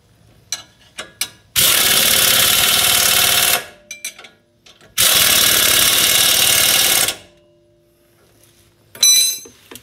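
A power tool tightening the nuts back down on a Suzuki's wheel hub during brake and axle work: two loud, sustained mechanical bursts of about two seconds each, with brief rattles and clicks between them.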